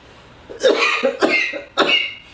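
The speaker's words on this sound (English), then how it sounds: "It's just a little cough." Three hoarse coughs in quick succession, close and fairly loud, with no talking.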